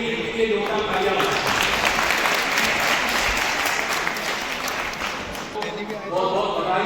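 Sustained applause from an audience at a school parents' event, honouring a first-prize winner; dense, steady clapping fills the whole stretch at even loudness, easing slightly near the end before rising again.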